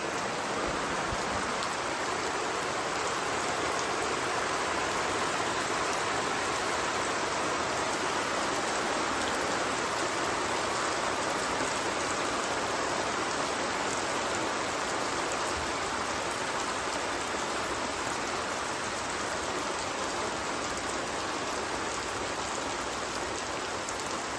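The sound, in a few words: rain falling on a planting container during a thunderstorm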